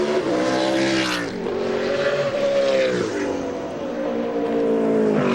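Trans Am Series race cars at the 2002 Grand Prix of the Americas in Miami roar past continuously, with loud engine notes rising and falling as the cars sweep by and accelerate, and no talking.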